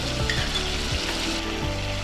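Mango pieces cook in a spiced tempering, sizzling steadily and close, with a low rumbling hiss and soft stirring scrapes throughout.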